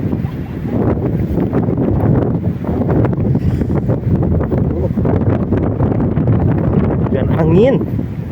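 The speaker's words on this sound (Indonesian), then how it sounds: "Angin guys," Strong wind buffets the microphone on a foggy mountain hiking trail at Gunung Putri near Lembang, Bandung, a loud, continuous rumbling roar with gusty swells and a faint voice briefly audible near the end.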